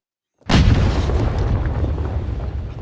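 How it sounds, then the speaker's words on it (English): A single loud explosion erupts from silence after a short pause, a sudden broadband blast followed by a deep, sustained rumble that rolls on without fading, with no voices over it. "Wow, that was quite the explosion."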